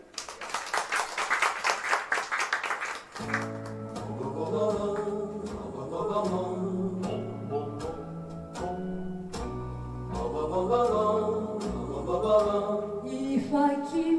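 Brief applause from a small audience at an oldies music night breaks out for about three seconds, then gives way to a song's instrumental introduction.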